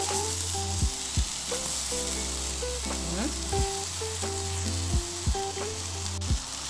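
Eggplant slices frying in hot oil in a pan give a steady, dense sizzle, with faint scraping and turning sounds as they are flipped, near and continuous, for a light moussaka tray.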